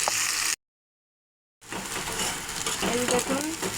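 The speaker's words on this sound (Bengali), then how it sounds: "একই সাথে সিমের বিচিগুলোও দিয়ে দেব। এখন সব কিছু ভালো করে ভেজে দেব।" Bean seeds frying with chopped onion, garlic and green chili, a steady sizzle with stirring scrapes that resumes after a brief silent gap and continues to the end.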